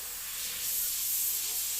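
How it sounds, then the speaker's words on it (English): An airbrush blows a steady, loud hiss of plain air with no paint, used for tiki painting, holding continuously without pause. "I'm not even spraying. I'm just spraying air before I pull the trigger."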